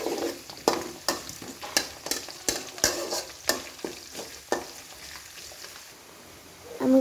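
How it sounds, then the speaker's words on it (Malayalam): Curry leaves and neem leaves fry in a pan and are stirred steadily, with sharp scraping strokes roughly every half second over a soft sizzle, fading to quieter frying near the end. "വേപ്പിൻ്റെ ഇല, കറിവേപ്പില, കുറച്ച് ഒക്കെ ഇട്ടിട്ട് നല്ല ഇളക്കി കൊടുക്കാം."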